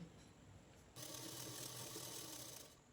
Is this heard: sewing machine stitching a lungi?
yes